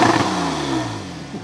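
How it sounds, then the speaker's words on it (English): A naturally aspirated Porsche 911 GTS of the 991.1 generation, parked outdoors in the countryside, gives a short, loud engine rev whose pitch sweeps downward as it settles, with no talking over it. "Can we please rev it up?"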